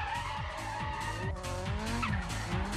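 Tires squeal and skid as a drift car spins out at a 2006 Drift Total GP Festival in Honjo, Saitama, with rising engine revs and repeated rubber chirps over a busy track backdrop.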